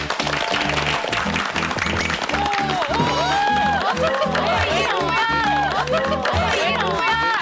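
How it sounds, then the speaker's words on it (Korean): A studio audience on a Korean health variety show applauds to welcome a guest onto the stage, steady clapping with crowd noise and whistles, while a host talks over it. "박수로 맞아주시죠"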